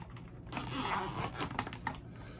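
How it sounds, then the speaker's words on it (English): A zip tie is ratcheted tight around a solar pumpkin light cable for outdoor Halloween decorations, giving a quick, close burst of rasping clicks that lasts about a second against a quiet background. "put it around, put the zip tie on there"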